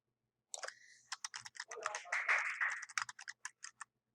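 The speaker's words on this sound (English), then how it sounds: "it's just better if I just type in here." Quick bursts of typing on a computer keyboard, crisp clicking keystrokes in uneven clusters with a short run of rapid taps in the middle, close and clear in a quiet room.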